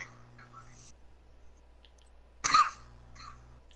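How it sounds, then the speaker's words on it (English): A single sharp cough bursts out close and loud against a quiet background, with faint soft rustles before and after. "Stupid coughing."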